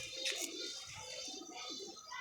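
Pigeons kept by a fancier cooing nearby, soft low repeated coos under a faint background hum, with chirpy calls mixed in.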